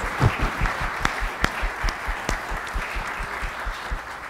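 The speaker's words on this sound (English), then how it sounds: "Let's give a round of applause to all of the performers for their outstanding performances." Audience applause for performers at a Chinese New Year program, a steady round of clapping with a few sharper nearby claps standing out, gradually easing toward the end.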